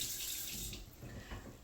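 Tap water runs steadily into a sink while hands are washed, a continuous close splashing hiss for under two seconds with no talking.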